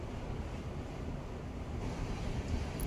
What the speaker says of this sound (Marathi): आवाज येतात भावेश मोठ्या मोठ्या समुद्राचा